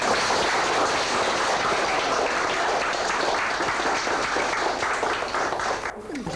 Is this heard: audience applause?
yes